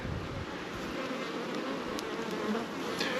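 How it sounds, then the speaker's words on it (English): Honeybees buzzing at a home beehive, a dense continuous drone of many bees close by, steady and unbroken with no voices. "my little bee friends work really hard for us"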